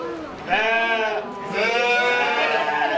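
Sheep bleat at a livestock show, two long wavering calls that carry close and loud over a busy background of crowd noise.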